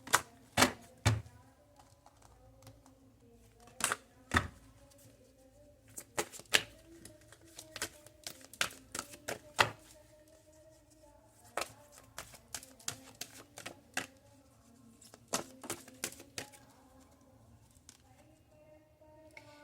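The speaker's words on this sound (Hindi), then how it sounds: "कुछ शफल करते हैं कार्ड्स को" Tarot cards being shuffled by hand, heard as faint, scattered riffling taps and flicks in irregular bursts with quiet pauses between them.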